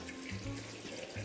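A cup of water or chili cooking liquid is poured out while making birria, a soft continuous liquid stream with faint gurgles, quiet and close.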